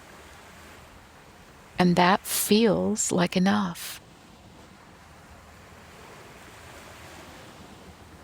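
Soft ocean surf and breeze on a moonlit beach at Tybee Island, a steady gentle wash continuing throughout, with a calm voice speaking briefly over it.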